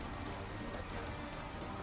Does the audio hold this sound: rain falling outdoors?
yes